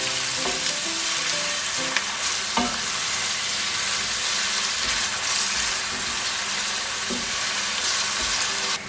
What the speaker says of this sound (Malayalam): സെലറിയും ഉള്ളിയും ഇട്ട് കൊടുത്ത് നല്ലതുപോലെ ഒന്ന് വഴറ്റിയെടുക്കാം.